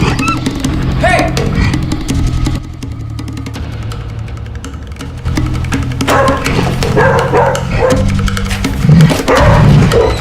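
Several dogs bark and yelp loudly in a tense scene, mixed with low droning tones and noisy movement, the barking in bursts across the clip.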